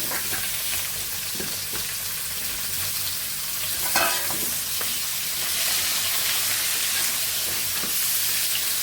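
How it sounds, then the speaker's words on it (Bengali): Pointed gourd (potol) fries in oil with a steady close sizzle, broken by occasional stirring scrapes and a brief louder clatter midway, no voices. "পটলটা দিয়ে দিচ্ছি আর এদিকে মাছটাও ভাজা হয়ে গেছে পটল ভাজতে ভাজতে আমি মশলা দেব"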